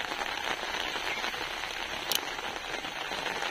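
Soft, steady rain pattering on a surface, fairly quiet and continuous, with one brief sharp tick partway through.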